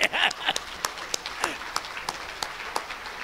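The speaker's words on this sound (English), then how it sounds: "let's just clap de Klerk first" Audience at a children's rights conference clapping for de Klerk; scattered, uneven claps ring out near and sharp, with a voice heard over the start.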